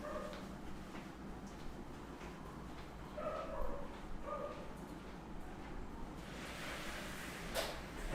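Dogs barking outdoors, heard faintly and at a distance as a few scattered barks and yips over a steady low background hum.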